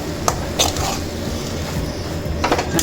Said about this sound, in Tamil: நல்லா கிண்டி விட்டுருவோம்.